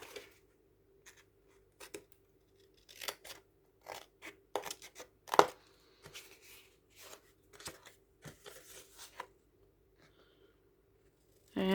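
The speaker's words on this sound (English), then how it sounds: "Now I'm just going to cut these off." Scissors snip through paper pages of a tall, skinny junk journal, a loose string of crisp close cuts and rustles that cluster in the middle, then thin out toward the end with brief quiet gaps.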